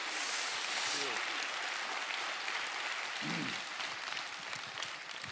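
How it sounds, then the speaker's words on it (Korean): Audience applause welcoming a visiting guest during a Sunday church service, a steady broadband clatter filling the whole stretch, fairly loud and continuous, with brief voices murmuring underneath. "박수로 한번 맞이해 주시기 바랍니다"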